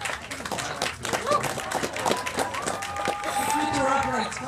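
An audience at a high school graduation speech at Schreiber in Port Washington, New York, breaks into dense, continuous clapping mixed with crowd noise and cheering, fairly close and loud, with voices murmuring underneath.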